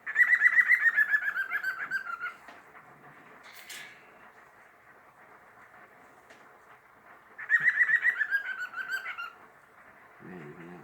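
A female cockatiel gives two bursts of rapid, pulsing calls that sound like laughter, each about two seconds long, close and clear, separated by quieter room noise with a faint rustle.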